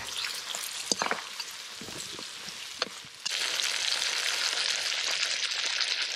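Blue crabs frying with curry leaves over an outdoor flame, stirred with clattering utensil scrapes and knocks before a steady, loud sizzle takes over and fills the rest, with wind around.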